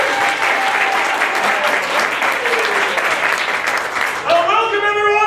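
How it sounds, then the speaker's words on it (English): Applause from an improv show's studio audience, continuous clapping with some voices under it, then music or tones rising over the clapping near the end. "Big round of applause for Paige."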